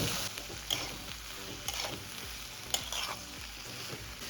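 A spoon scrapes and stirs through thick chickpea and boiled potato curry in a hot pan, with a steady sizzle and occasional clinks against the metal.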